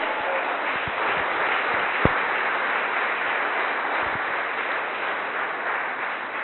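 A church congregation applauding during a Spanish-language service: dense, steady clapping from many hands fills the room at moderate distance and continues throughout without pause.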